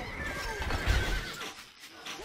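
In the strategy game Stronghold Crusader, a horse gives a short, fairly faint whinny, with soft hoof clip-clops and a low thump in the middle, all set against game background noise.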